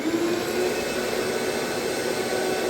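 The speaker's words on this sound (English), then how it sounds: "these pieces were small enough that I could tackle them on my miter saw" A miter saw roars steadily and loudly as it cuts small wood pieces for a Shaker-style stereo cabinet, a continuous whining motor-and-blade sound with no pauses.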